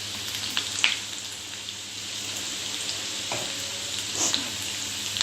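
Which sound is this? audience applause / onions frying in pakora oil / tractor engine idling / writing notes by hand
onions frying in pakora oil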